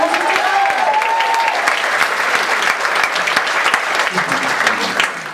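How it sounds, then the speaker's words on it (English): Steady applause from a Rock Choir concert audience fills the whole clip, dense and sustained, with a faint sustained tone early on before tapering slightly near the end. "Kelly, big round of applause for Kelly"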